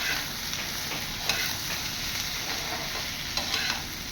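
Vegetables for a home-style vegetarian curry stirred in a pan, a steady close hiss of frying with faint scraping of the spoon throughout.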